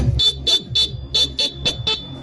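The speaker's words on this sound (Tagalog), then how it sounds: "Tapos sa busina." A Honda Click 125 scooter horn beeps seven times in a quick, evenly spaced series, loud and close, with no talking.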